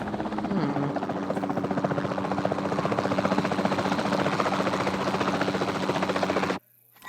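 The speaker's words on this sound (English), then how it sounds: "Then the sensible thing is to take a capture team helicopter." A capture team helicopter in the video game Jurassic World Evolution 2 flies steadily with a continuous throbbing rotor chop and engine buzz, loud and even, then cuts off abruptly near the end.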